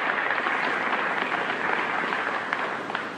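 An audience at a live lecture in Chicago in 1954 applauds, a dense steady clapping that fills the room for several seconds and tapers slightly at the end.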